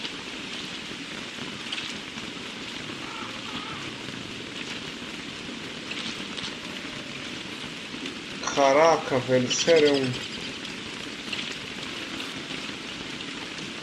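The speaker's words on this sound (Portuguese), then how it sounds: "Quatro chuvas de sapo, hein, gente?" A rain of frogs in the video game Don't Starve Together brings a steady patter of rainfall, with a person talking briefly over it partway through.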